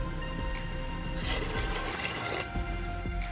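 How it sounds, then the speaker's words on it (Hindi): Two glasses of water are poured into a pot with turmeric and salt while making beef daal gosht. The water pours steadily and close by, with a louder gushing splash midway, and there is no talking. "2 गिलास हम इसके अंदर पानी के ऐड करेंगे"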